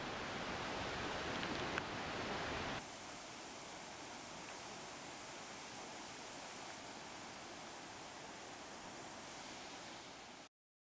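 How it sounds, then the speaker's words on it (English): A waterfall on Hawaii's Big Island near Hilo roars in a steady, broad rush of falling water that is louder for the first few seconds, then continues evenly before cutting off. "here's the waterfall"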